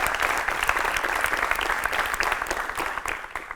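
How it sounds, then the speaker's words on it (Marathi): A crowd applauds for a school and its visiting students, many hands clapping in a steady, fairly loud rattle that tapers slightly near the end. "एकदा शाळेसाठी जोरदार टाळ्यांचा गजर करूया."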